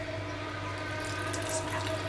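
Water mixed with shredded coconut being poured into cooked sprout curry for a South Indian dish, a steady continuous liquid wash with a faint hum underneath, close and even throughout.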